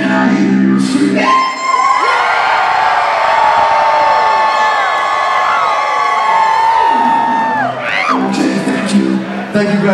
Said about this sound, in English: Shipfam, can I hear you scream?